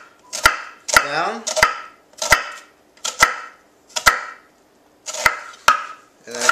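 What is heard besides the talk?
rough chopping with a knife on a board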